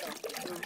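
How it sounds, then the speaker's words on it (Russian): Water pours from a canister into a kettle outdoors at a spring barbecue, a short close gurgling splash that is brief and steady. "сначала мы набирали воду в эту канистру, теперь мы ее туда выливаем"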